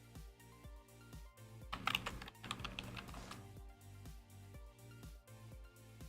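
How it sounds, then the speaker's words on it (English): Computer keyboard typing at a radio emergency services station, with steady clicking keystrokes that burst into a rapid flurry in the middle before slowing again, over a faint background hum. "One quick stroke of the hand there on the keyboard."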